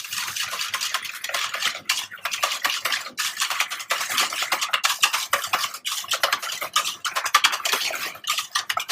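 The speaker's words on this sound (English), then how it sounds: "Give it a good whisk." A whisk beats egg yolks and sugar in a bowl, a fast steady run of close metallic ticks and scrapes against the bowl, with brief pauses, no talking.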